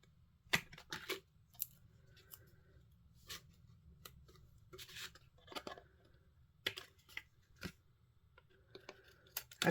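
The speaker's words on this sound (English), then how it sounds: "I normally use big scissors for doing this bit" Small scissors snip paper for a St Patrick's Day shaker card, giving sharp, isolated cuts at an irregular pace, close and quiet against a near-silent room with no speech.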